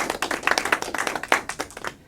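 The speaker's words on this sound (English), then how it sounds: "just give it a round of applause for our speakers" A conference audience applauds its speakers, giving dense, lively clapping from many hands that fades out at the end.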